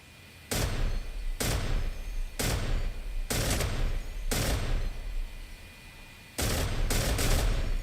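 F-86 Sabre .50 caliber machine guns firing in repeated loud bursts, about six roaring volleys with short gaps and a longer pause before the last, close and dominant with no talking.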